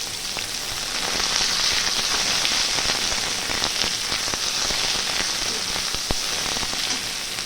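Two large chopped onions hitting hot oil with whole spices for a soybean curry, a loud, dense sizzle and crackle that stays steady, with sharp pops scattered through it.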